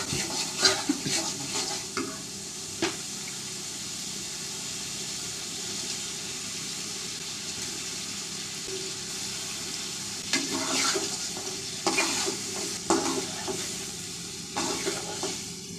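Tengra fish frying in a pan with tomato paste and fried spices, a close sizzle with bursts of stirring and scraping, loudest at the start and again near the end, with no voices.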